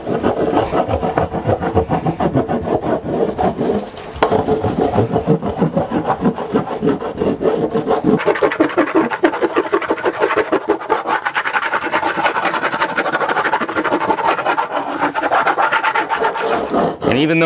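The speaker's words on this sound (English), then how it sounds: "even though I'm putting wax over this whole entire surface here" Surf wax is rubbed onto a surfboard in fast, steady back-and-forth scrubbing strokes, close and fairly loud, continuing without pause.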